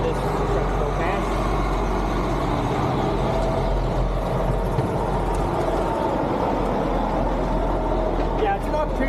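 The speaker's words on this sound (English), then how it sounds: "Let's wait for this truck to go past." A truck rumbles past on a road beside a hiking trail, a loud, broad, steady roar that stays close and heavy the whole time, with a faint voice beneath it.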